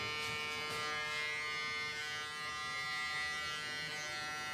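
Electric hair clippers with an open blade run in a steady close-up buzz while cutting a mannequin's short layered hair, droning continuously with slight shifts in pitch.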